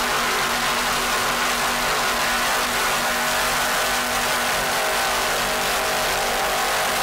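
Superclass offshore racing powerboats with 1,000 hp Mercury inboard engines at the 1993 Sarasota Offshore Grand Prix, producing a loud, continuous roaring drone that holds steady throughout with no voices.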